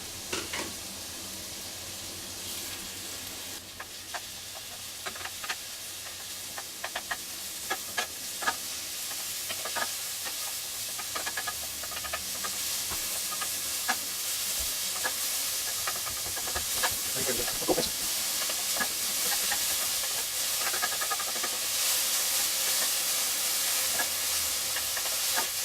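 Onion cooking in a pan for a rhubarb wild rice pilaf, a soft, continuous sizzle and hiss with scattered crackles and light stirring, growing slightly louder over time.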